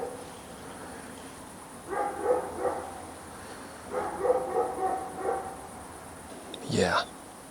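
A dog barking in a nearby house heard from a sand mountain cave campsite: two short bursts of several barks each, moderately distant, over soft insect chirring, followed by a brief rising whine-like sound.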